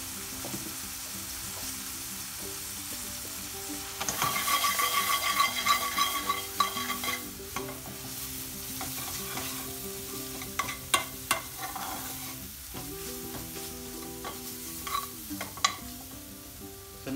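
Mixed curry powder and red chili powder frying in a pan for a lamb tarka bhuna, a steady sizzle with scraping stirs that grow busier midway; faint music hums beneath.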